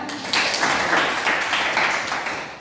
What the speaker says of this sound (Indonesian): terima kasih tepuk tangan ya